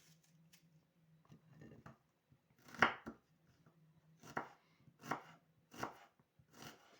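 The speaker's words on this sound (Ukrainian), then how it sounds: "Нарізаємо цибульку." A knife chops through an onion on a board in sharp, uneven strokes, close and crisp, with a faint low hum behind and no talking.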